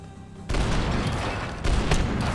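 Dense, loud gunfire bursts in the shooter game Max Payne 3, a sudden continuous fusillade of overlapping shots with a second surge near the end, close and harsh.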